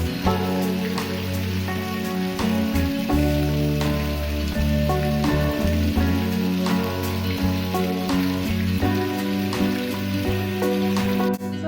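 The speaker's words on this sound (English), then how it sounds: "We listened to old Bollywood songs and relaxed the entire day in this beautiful rainy weather." Steady rain falls at a jungle resort in Coorg, a dense continuous patter on surfaces that holds at an even loudness throughout, with tonal music playing underneath it.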